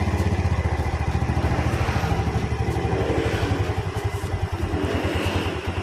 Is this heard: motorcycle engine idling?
yes